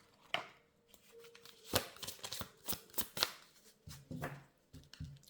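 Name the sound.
drawing a tarot card from the deck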